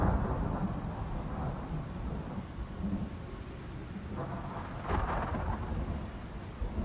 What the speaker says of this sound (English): this storm sounds like a doozy